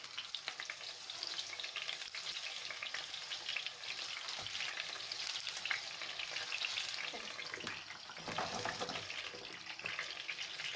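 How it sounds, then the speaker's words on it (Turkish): Eggplant slices fry in hot oil with a steady, dense sizzle and crackle throughout, bubbling evenly with occasional louder spits, close and fairly faint with no voices. "Bu şekilde arkadaşlar patlıcanlarımı arkalı önlü kızartacağım"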